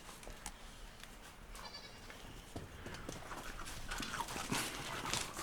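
On an off-grid homestead, goats bleat while a dog chases them, with hooves scuffling and clattering. The animal noise is moderately close and grows busier toward the end.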